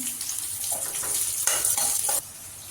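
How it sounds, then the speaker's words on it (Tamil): Large onions with dried red chillies fry in a pan for a Tamil green gram dish, giving a steady hiss and sizzle with occasional stirring scrapes, fairly close and without talk. "பெரிய வெங்காயம் தேவையான அளவு நல்லா வதக்கிங்க"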